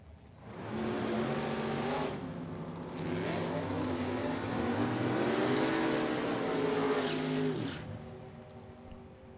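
An '03 Corvette Roadster and a Cutlass race side by side at a drag strip, engines roaring and revving loudly for several seconds before cutting off.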